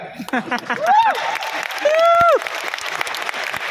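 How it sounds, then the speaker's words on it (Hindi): Audience applause rumbles throughout an auditorium event, with people talking over it and a couple of rising vocal exclamations in the middle. "हम यहाँ ताली बजा रहे"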